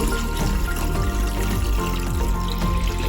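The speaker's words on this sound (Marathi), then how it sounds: "आपण आता ह्याच्यामध्ये पाणी ॲड करून घेऊ" Hot water poured into roasted masala in a pan to make rassa gravy, a close continuous hissing splash over busy sizzling, short and without talk.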